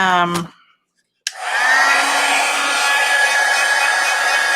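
An embossing heat dryer for craft work, the kind used in mixed-media tag making, snaps on after a brief whine and cuts out, then runs as a loud, steady whirring blow up close.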